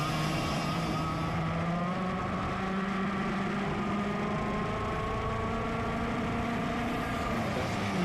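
Master 100cc racing karts roar around the Sonoma racetrack in the 2023 ROK series main event, a dense, continuous high engine whine with shifting pitch as several karts run close together, loud and unbroken.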